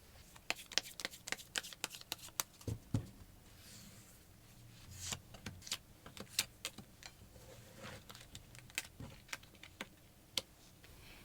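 Tarot cards being drawn from a deck during a luck reading, heard as soft, close, irregular clicks and card flicks scattered across a quiet room with no talking.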